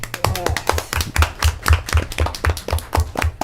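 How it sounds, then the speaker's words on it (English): School board meeting audience clapping for a student group's performance, a steady run of sharp distinct claps in an even rhythm, fairly close, with voices speaking over it. "huge round of applause to the Simpson Seahawks for that performance"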